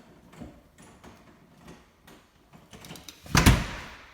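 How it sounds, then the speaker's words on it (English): A house door in Port Charlotte is handled with a few soft clicks and taps, then one loud close and latch or lock clunk near the end. "I'll lock this door before I forget."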